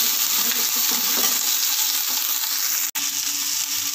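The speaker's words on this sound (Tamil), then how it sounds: "இப்போ நல்லா நசுக்கி வச்ச ரெண்டு பூண்டு, கருவேப்பிலை, கொத்தமல்லி, பச்சை மிளகாய், இது எல்லாத்தையுமே போட்டு வதக்கிடலாம்." Crushed garlic, curry leaves, coriander and green chillies frying in a pan for poori potato masala, giving a continuous loud sizzle with faint stirring scrapes and one sharp metallic tap near the end.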